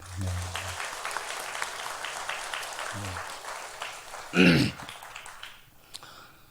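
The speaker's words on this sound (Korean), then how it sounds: "우리 호산나 성가대 박수로 한번" A church congregation applauds a choir, a brief burst of clapping that fades quickly, heard under a man's speech that continues through it.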